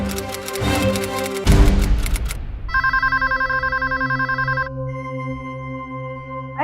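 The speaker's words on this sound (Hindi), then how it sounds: "अरे जरा सुनो, फोन बज रहा है कब से।" Telephone ringing in a Hindi TV drama scene, a loud electronic ring with rapid repeated pulses following a musical sting, near and clear.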